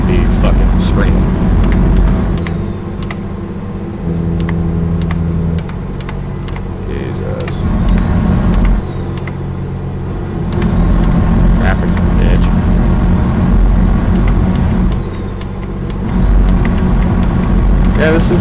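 Truck engine in American Truck Simulator drones steadily at high revs, its pitch stepping between levels as gears change, with light keyboard or control clicks over the top.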